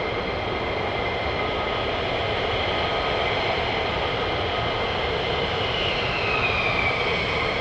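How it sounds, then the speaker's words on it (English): Fighter jets at RAF Lakenheath take off on afterburner, producing a loud continuous roar that stays at full, steady intensity and swells slightly near the end, with no voices. "Enjoy the afterburners, guys."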